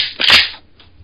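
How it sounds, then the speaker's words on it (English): A Mossberg 500 pump shotgun is unloaded: one loud close metallic clack and slide, then a faint light tap as the ejected shell lands on the floor. "And this is the sound of me unloading a shotgun."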